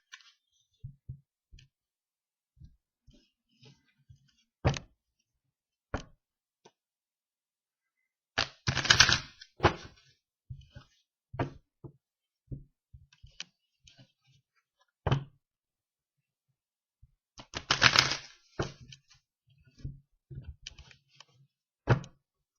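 Tarot cards being shuffled by hand, with quiet scattered taps and clicks and two longer, louder riffling bursts, close and with no talking.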